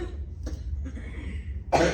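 A person with a lingering cold gives a few dry coughs and a short throat clearing, close and fairly loud, with a harsher cough burst at the very end.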